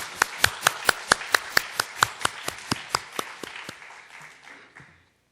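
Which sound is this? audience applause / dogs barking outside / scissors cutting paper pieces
audience applause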